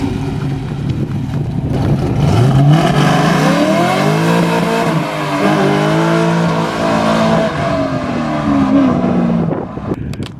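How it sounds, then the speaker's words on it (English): A Camaro Z/28 with a 444 hp LS1 V8 revs hard and close by, the engine note climbing and falling through several throttle blips over a steady rumble, with no talking. "That LS1 sounds so sick, man."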